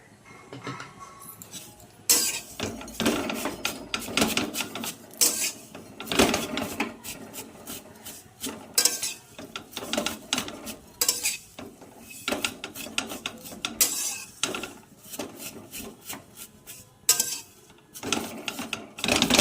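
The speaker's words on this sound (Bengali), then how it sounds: "সিমুইটা কড়াইতে দিয়ে দিয়েছি। এটা একটু ঘি দিয়ে ফ্রাই করে নেব হালকা।" Vermicelli is stirred while frying lightly in ghee in a wok, giving irregular scraping and clattering strokes of a utensil against the pan with quiet gaps between them.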